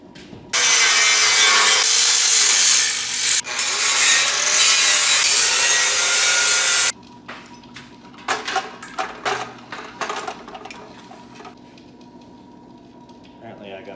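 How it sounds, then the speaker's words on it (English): A tool cuts welds on metal junk, giving a loud, steady, harsh grinding-sawing burst for several seconds that stops abruptly, followed by scattered clanks and taps. "I gotta cut some welds because evidently this one's a 1/2 inch wider than the other one"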